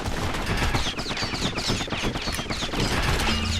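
Dual slinger pistols fire in the Bastion video game, a dense, rapid burst of gunshots overlapping in a continuous volley, loud and without speech.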